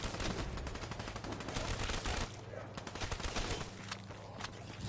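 Rapid automatic gunfire from the Weevil weapon in Black Ops 6 Zombies, loud dense bursts nearly filling the stretch with a brief lull midway, game effects layered underneath.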